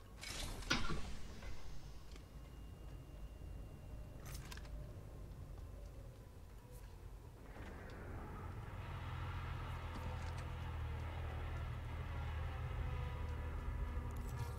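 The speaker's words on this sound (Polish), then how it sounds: "Pociąg jest tutaj." A train rolls past in the video game Apex Legends, a faint low rumble that builds and holds through the second half, with a few small clicks and taps earlier.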